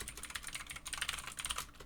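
Quiet, rapid keystrokes on a computer keyboard, a steady patter of light clicks in close succession with no talking.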